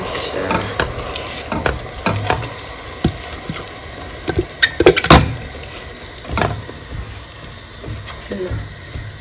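Bell peppers are added to a pepper mixture for fish stew and stirred in a pan. Close sizzling frying carries uneven scraping and knocking strokes, with a cluster of loud clatters midway.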